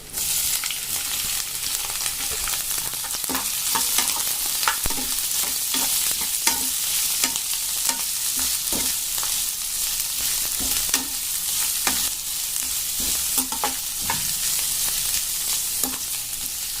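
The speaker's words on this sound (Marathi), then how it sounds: "आता मी याच्यामध्ये तेलामध्ये ऍड करते" Round-sliced bitter gourd frying in oil with garlic, a loud bright continuous sizzle broken by frequent rhythmic stirring scrapes and taps from a utensil against the pan, close up, no talk.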